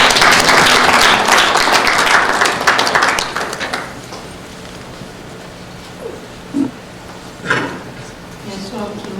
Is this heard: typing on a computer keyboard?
no